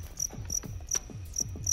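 Pet feeder crickets chirp in a quick, regular series of short high trills, close and fairly quiet, with small thumps and rustles underneath.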